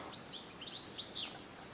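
European robin chicks and parent birds calling at a nest on a riverbank, with faint, high chirps and thin call notes scattered through a short stretch of quiet outdoor ambience.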